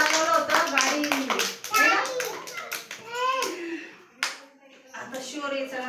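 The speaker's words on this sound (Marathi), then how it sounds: "ऋषीसाठी पण टाळ्या वाजवा" At an anganwadi preschool, young children clap in short bursts of sharp slaps, mostly early on, while kids' voices chatter and speak throughout at close range.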